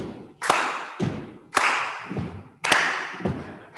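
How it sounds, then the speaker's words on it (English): A synagogue congregation claps in unison at a Shabbat service in Madison, Connecticut: three sharp, loud claps spaced about a second apart, each followed by a quick soft thump, with no talking. "teach the Jewish people to clap on the 2nd and 4th beat of the measure"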